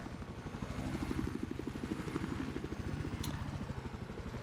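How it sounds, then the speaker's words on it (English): A scout helicopter in Battlefield 4 during an 8v8 Conquest match, its rotor thumping in a steady rapid beat with a loud continuous engine drone throughout, close and dominant. "Rocket Savage is taking the scout helicopter all the way around north"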